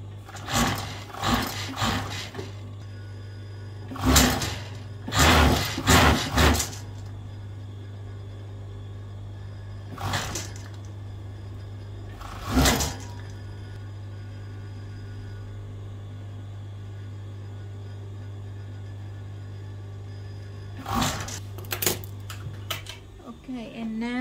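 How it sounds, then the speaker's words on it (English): A sewing machine stitches a pocket on stretch leggings in several short bursts, each a second or two long, spaced out with quiet pauses and a steady low hum running underneath. "so we have to sew the pocket together."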